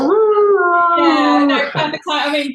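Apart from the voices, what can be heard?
dog howling in the background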